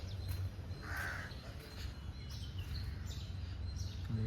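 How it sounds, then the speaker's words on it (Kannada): Single crow cawing once in the distance over a low constant background hum, the call brief and clear against the quiet. "ಕಾಗೆ ಬೇರೆ ಕೂಗ್ತೈತೆ"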